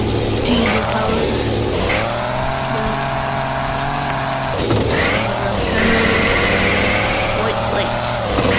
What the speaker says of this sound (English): My Caterpillar truck.